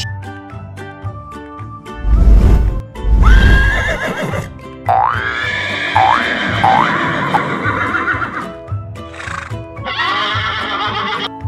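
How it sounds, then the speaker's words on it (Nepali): A horse neighs loudly several times, with shrill rising whinnies and snorting, near and clear, with no talking. "घोडा।"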